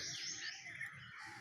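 Sparrows and bulbuls chirp and twitter continuously outdoors, the sound soft and somewhat distant, with no talk over it.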